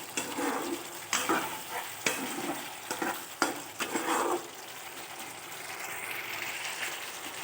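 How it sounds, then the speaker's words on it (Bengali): Egg curry in a frying pan being stirred after garam masala powder goes in, with several distinct scraping strokes and a soft sizzle that settles into a quieter steady hiss near the end. "এবার এর মধ্যে আমি অল্প একটু পরিমাণ গরম মশলা গুঁড়ো দিয়ে দিলাম, দিয়ে নেড়ে চেড়ে গ্যাসটা বন্ধ করে দেবো"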